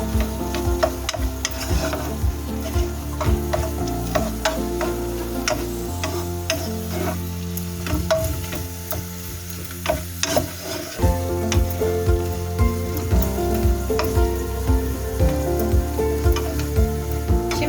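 Fresh green onions fry in olive oil with pepper paste and tomato paste, a steady close sizzle broken by scraping and stirring clatter from a spoon against the pan, with a louder, denser crackle in the later part.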